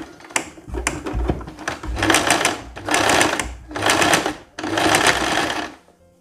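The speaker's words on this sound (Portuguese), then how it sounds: "e agora nós vamos fazer a parte do pesponto" A sewing machine topstitches a seam on a long winter blazer, running in four loud, close bursts of steady whirring stitching with short pauses between them and no talk.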